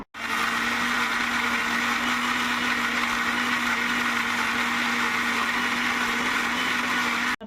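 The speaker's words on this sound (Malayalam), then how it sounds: "എന്നിട്ട് ഇതെല്ലാം കൂടെ ഞാൻ മിക്സിയിലിട്ട് അരയ്ക്കാൻ പോവുകയാണ്" A kitchen mixer grinder grinds coconut into a smooth paste for Kerala-style red spinach curry, a loud, steady motor whir that starts abruptly and runs unbroken for about seven seconds before cutting off.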